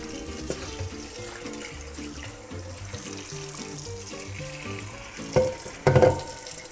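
A wok is rinsed under a running kitchen tap, water splashing steadily with clinks and knocks of the pan, then a couple of louder clanks near the end; nobody speaks.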